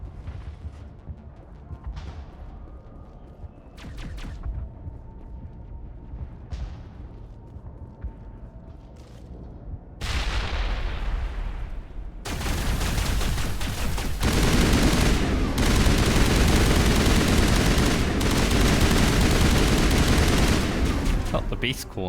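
Gunfire in a Mass Effect battle: sparse shots and short bursts early on give way to a dense, loud, sustained barrage of rapid fire and rumbling impacts, with a voice speaking over the start.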